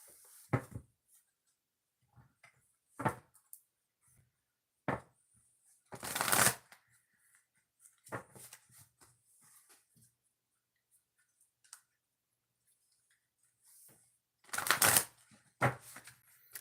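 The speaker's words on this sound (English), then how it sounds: "I'm going to shuffle the cards" Tarot cards are shuffled in scattered bursts, with soft riffles and sharp slaps and taps spread across quiet gaps, close and fairly faint.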